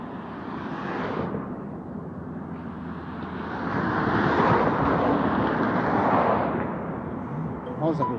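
Helicopter taking off from an airport near a river bridge, a loud steady rumbling engine roar that swells and builds in the middle, heard from a distance with someone talking over it.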